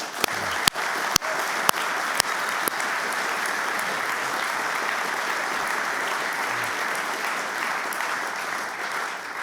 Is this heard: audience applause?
yes